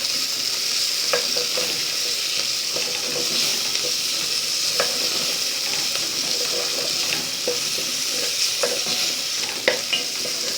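Libyan-style mbakbaka with onion and red pepper frying in a pan, stirred with repeated scraping clicks over a continuous loud sizzle, close by with no talking.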